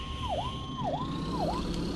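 A fire rescue vehicle siren in the video game FS:911, a wailing electronic tone dipping and rising in three quick regular sweeps, steady and fairly clear over a low rumble.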